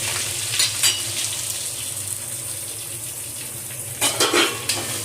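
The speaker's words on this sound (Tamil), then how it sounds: "பூண்டு நல்லா வதங்கிடுச்சு, பார்த்தா தெரியும்." Steady, close sizzling of garlic sautéing in a hot pan, with a few metallic scrapes of a utensil stirring.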